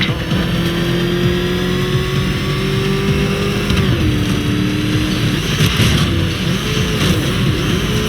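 Car engine in Batman: Arkham Knight revving loud and continuous, pitch holding steady then dipping and shifting near the middle as the motor strains, with a constant roar throughout and no talk.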